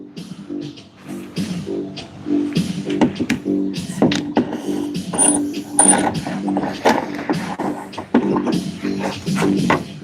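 Ratcheting clamp is tightened onto a part near a car's spark plug in a cramped engine bay, giving repeated close mechanical clicks and clacks with steady rustling throughout.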